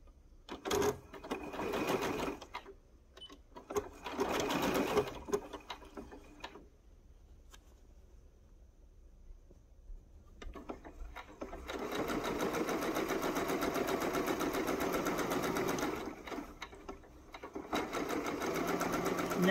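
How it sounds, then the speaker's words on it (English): Home sewing machine running a straight quarter-inch seam on a T-shirt quilt: steady, close mechanical whirring in several bursts, with a longer continuous run in the second half and brief pauses between stitching stretches. "I'm just going to sew it on. So I match up my edge at the top, and I make a straight seam."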